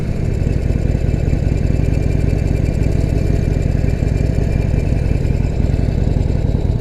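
Harley-Davidson Forty-Eight Sportster V-twin engine running under a rider, a loud, close, steady throbbing rumble with an even pulsing beat throughout and no pause.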